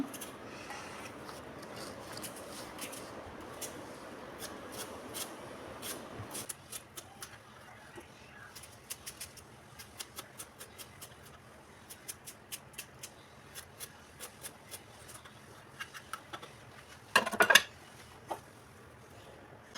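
A knife chops ivy gourd leaves on a cutting board in quick, light, evenly spaced taps that continue steadily, with a louder clatter near the end.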